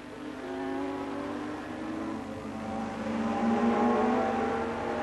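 Yamaha and Kawasaki 750cc racing motorcycles screaming past at Brands Hatch in 1977, with several high engine notes overlapping and rising in a steady, loud drone.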